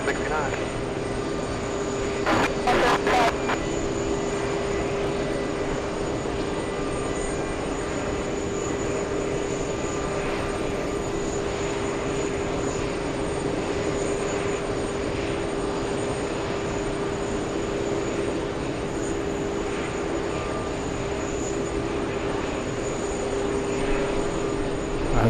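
Delta jet at JFK airport on takeoff, a steady, sustained engine roar heard from a distance, with a radio voice speaking briefly near the start.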